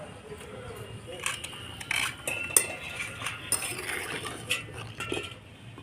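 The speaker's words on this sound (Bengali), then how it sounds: "ঢাকনাটা খুলে দেখে নেবো" A metal lid comes off a cooking pot of taro and eggs, giving a run of light clinks and clatters scattered over a few seconds, close by and moderately loud.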